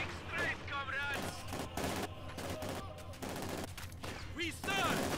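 Gunfire rings out in the World War II strategy game Company of Heroes 2, with bursts of rifle and machine-gun shots overlapping shouted soldier voices and battle noise throughout.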